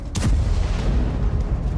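Artillery shells fired at Hamas positions in the Jabalia refugee camp, northern Gaza: a single heavy boom at the start, then a sustained low rumble that rolls on without voices.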